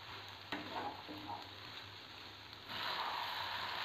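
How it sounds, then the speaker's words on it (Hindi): Sabudana roasts in a pan with a soft sizzle and scraping stir strokes, fairly quiet, becoming a brighter hiss near the end. "इसको तब तक भूनना है जब तक इसका कलर जो है पूरा ट्रांसपेरेंट ना हो जाए।"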